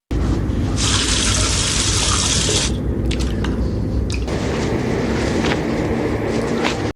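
A shower runs in a steady, loud rush of water that sprays continuously throughout, with a slight change in tone partway through and no voices.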